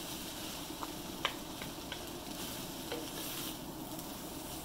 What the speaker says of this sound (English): Just gotta keep a stirring.